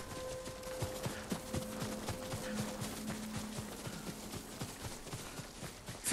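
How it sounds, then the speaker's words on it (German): A rapid run of hoofbeats in Ghost of Tsushima, many horses approaching and clattering in quick rhythm at moderate distance, with a faint tonal hum and low rumble beneath. "Pferde, sie kommen uns holen."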